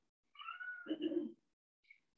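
A cat gives one drawn-out meow lasting about a second, close and fairly clear, followed by a brief faint chirp, with no talking over it during a beginner yoga session.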